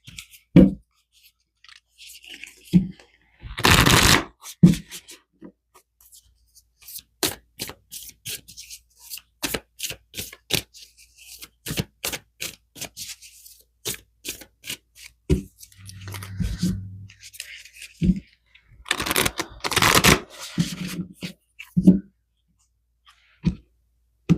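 Tarot cards are shuffled and handled close up in quick irregular rubs, taps and riffles spread across the stretch, with speech passing in between.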